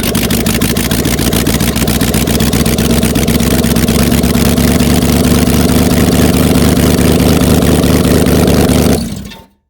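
A small block Chevy engine in an old 4x4 Chevy truck runs loud and steady through open headers, with a rough, uneven lope, then cuts off abruptly near the end.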